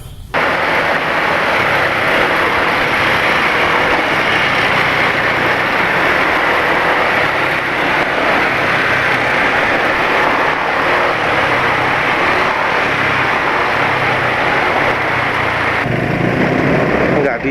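A Yamaha motorcycle engine running rough, its oil overdue for a change, roars loud and close in a steady, unbroken drone for the whole stretch.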